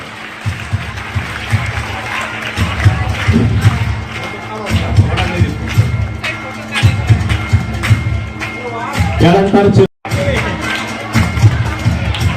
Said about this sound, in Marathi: सगळ्यांनी त्याच्यासाठी आणि इगे सरांसाठी एकदा जोरदार टाळ्या वाजवायच्या आहेत